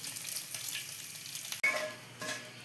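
Whole garam masala and bay leaves sizzle in hot oil for paneer curry, a bright, close crackling hiss that holds steady, breaks off briefly with a clatter, then carries on.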